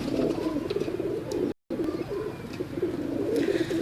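A short stretch of Teddy pigeons cooing together: soft, rolling, low-pitched burbles from a few nearby birds, continuous apart from a momentary dropout midway.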